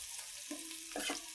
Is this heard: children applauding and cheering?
no